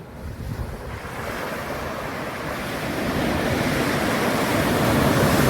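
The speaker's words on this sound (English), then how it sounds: "Our first deserted island beach." Surf washing onto a deserted island beach lined with palm trees, a continuous broad roar of breaking waves that swells steadily louder, with wind buffeting the microphone and no voices.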